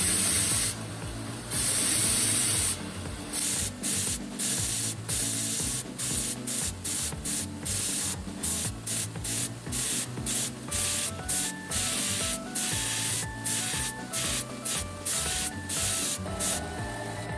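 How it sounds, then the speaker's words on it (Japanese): A belt grinder polishing the spine of a knife made from 154CM steel gives a loud, steady abrasive hiss. The grinding is broken by many quick interruptions as the blade is lifted and set back on the belt. "峰と顎を磨いていきます。"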